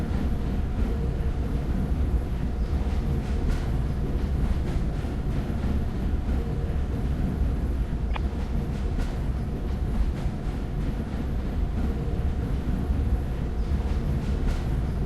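A train rolls past in the GTA 5 video game, a steady loud rumbling drone with faint clatter that holds at a constant level throughout.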